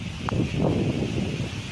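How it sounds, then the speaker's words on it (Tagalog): Steady wind roars and buffets the microphone with a low, continuous rumble, loud and close throughout. "Mahangin po, malakas ang hangin."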